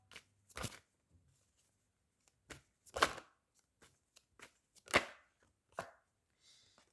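Oracle cards being shuffled by hand, a series of separate brisk riffling bursts with short quiet gaps between them, close and fairly faint.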